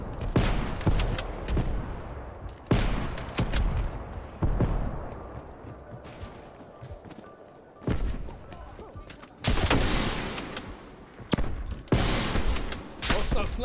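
Sniper rifles fire in a Call of Duty match on PS5, giving sharp, heavy reports spaced a second or two apart. Some shots land close and loud and others come from farther off, over a low background.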